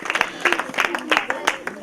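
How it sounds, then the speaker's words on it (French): Group of children at a Thanksgiving day event with orphans in Gabon claps for a correct answer, uneven bursts of hand claps mixed with voices. "on applaudit pour elle"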